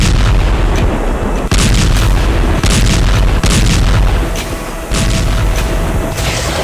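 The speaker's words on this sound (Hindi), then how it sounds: "वहां अचानक शुरू हो गए धमाके।" Explosions on a war front in the Russia–Ukraine conflict, a loud, continuous roar of booms and blasts with repeated sharp impacts and a brief dip in the middle, with no speech.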